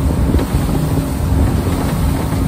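Porsche 917 speedboat at top speed, about 70 km/h over waves, a steady roaring engine mixed with heavy wind buffeting and water rush, loud and continuous.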